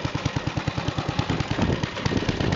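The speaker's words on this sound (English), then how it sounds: "This is the 1970 C8 square chute snowblower." A 1970 Gravely C8 walk-behind tractor with a square-chute snowblower runs steadily nearby, its small engine's fast regular pulsing chug continuing throughout with no voices.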